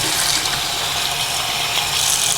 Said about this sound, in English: then we'll fill it up with some more water